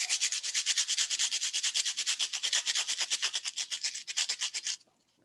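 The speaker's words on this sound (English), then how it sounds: "So if you just take 2 pieces and you grind them together," Two craft pieces are ground against each other to make artificial snow, producing a fast, even run of close, scratchy rubbing strokes that continues for several seconds and then stops abruptly.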